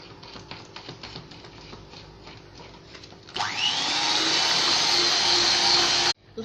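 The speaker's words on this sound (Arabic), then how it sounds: "نشعلوا الباتور." An electric mixer whirs on partway through, loud and steady as it beats cake batter for a lemon cream cake, then cuts off at the end; light clattering comes before it.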